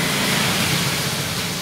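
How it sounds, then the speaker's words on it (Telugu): Heavy first-monsoon rain falls in Vizianagaram, a dense, steady hiss of downpour close by with no break over a brief moment. "మంచి వర్షం పడుతున్నారు"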